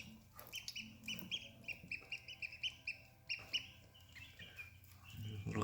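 Newly hatched mallard ducklings give soft, repeated high peeps in short irregular bursts, close by and fairly quiet, with a faint low hum underneath.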